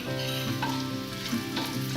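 Garlic frying in hot oil in a pan for masala pori, a steady bright sizzle that hisses on without pause, close and fairly loud, with faint stirring and no speech.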